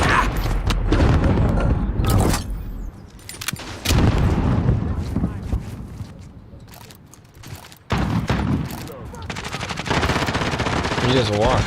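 Video game combat with bursts of automatic gunfire and a booming grenade blast, loud and near, the fire breaking off briefly before resuming in heavy volleys.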